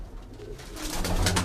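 A flying pigeon perched on a home rooftop coos in low, repeated murmurs over steady outdoor background noise.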